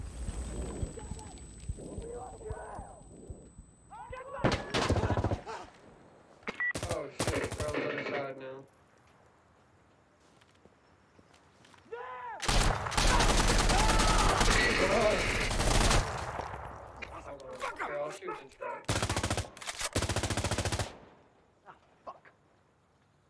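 Bursts of machine gun fire in the shooter game Insurgency: Sandstorm, loud rapid volleys in separate bursts broken by quieter stretches, with players talking over the action.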